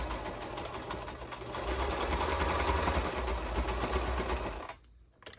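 A sewing machine stitches steadily through fabric for a tool and gardening belt, a close, continuous whirring rattle that speeds up slightly, then stops near the end.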